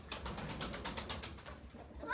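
Pigeons at a mini zoo give a steady, soft run of repeated cooing, close and fairly even in volume, with no talk over it.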